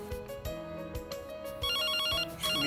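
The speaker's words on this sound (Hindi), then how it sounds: "नितिन का फोन होगा, भागी।" A phone ringtone plays in a home during a Hindi TV drama. The electronic melodic ring is fairly faint, and its repeating notes grow fuller and brighter partway through, with no talking over it.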